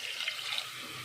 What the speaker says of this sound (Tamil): அதே டம்ளர் சைஸு 2 டம்ளர் தண்ணி ஊற்றிக்கலாம்